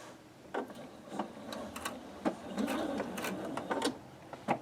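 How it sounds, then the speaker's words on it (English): A sewing machine stitches a quilted spool block, its motor whirring in short runs with brief pauses between bursts, close and moderately loud, with no talking. "And then you're going to stitch from X to X."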